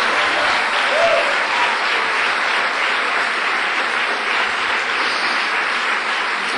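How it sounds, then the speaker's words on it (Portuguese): A church congregation claps in praise, a dense, loud, continuous wash of applause that holds steady throughout without pause. "Aplauda ao Senhor, porque você é livre."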